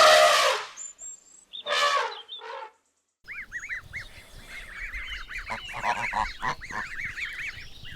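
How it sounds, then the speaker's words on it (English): A gosling's goose honks: a few loud young honks at first, a brief pause, then a dense run of rapid, repeated honking calls from several birds at close range. "Gosling."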